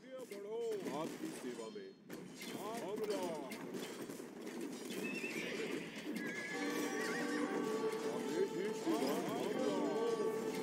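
A horse whinnies loudly, followed by rapid galloping hooves, a voice, and more whinnies over a busy, cluttered soundtrack from Age of Empires II: Definitive Edition.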